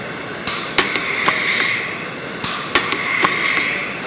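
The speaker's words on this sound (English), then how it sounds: "Power the tool on, pull the trigger, and the rivet is presented to the nose piece." A Kingset industrial auto-feed riveting tool cycles twice, each shot giving a sharp mechanical crack followed by a whirring, hissing drive as the next rivet feeds, loud and close with no talk.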